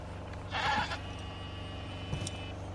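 One short, loud bleat from a goat amid a scuffle between female goats jostling for dominance on a homestead, then quiet with a faint steady hum.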